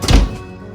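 A home oven door on a fan-assisted oven shuts with a single close, dull thunk after a plum cake with crumble topping goes in to bake, followed by a quiet fading tail.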